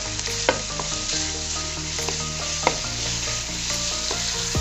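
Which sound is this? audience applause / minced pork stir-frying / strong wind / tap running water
minced pork stir-frying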